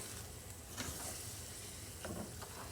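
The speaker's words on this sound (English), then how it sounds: "Stir this up." Mexican chicken and rice with broth is stirred in a pan, a faint, steady hiss and simmer broken by a couple of soft, brief scraping strokes.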